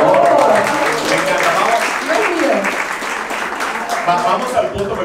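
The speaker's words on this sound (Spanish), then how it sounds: "le dan aplauso a ella, por favor" An award ceremony audience claps in a dense, steady burst of applause that fills the room, with a voice speaking over it throughout.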